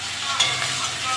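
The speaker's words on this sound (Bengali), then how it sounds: "পেঁয়াজটা একটু ভেজে নেব।" Onion frying in oil in a home kitchen, a close, steady sizzle with a quick stirring scrape, brief and without speech.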